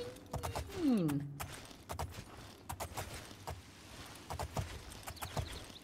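Soft hoofbeats clip-clop at a steady walking pace in the video game Oblivion, with a horse's brief whinny near the start and faint game background sounds.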